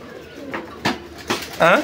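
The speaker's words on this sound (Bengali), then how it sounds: "এই যে দেখেন ডাকাডাকি করতেছে, এটা নর কবুতরটা?" A large male pigeon in a loft gives several throaty coos in short bursts, close and clear, rising to a louder rolling call at the end.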